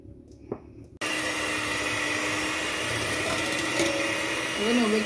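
An electric mixer beats cake frosting in a steady, loud whir that starts abruptly and continues unbroken, with a faint voice heard just before it begins.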